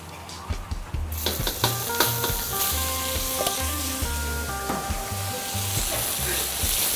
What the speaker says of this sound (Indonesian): Kita masak dulu bumbunya.